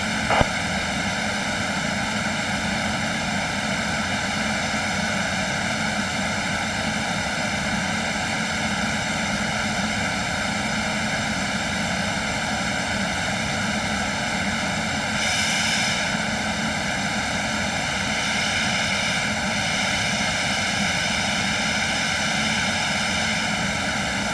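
An Embraer Phenom business jet taxiing in a flight simulator game, giving a steady, loud, continuous engine whine with a constant tonal hum throughout.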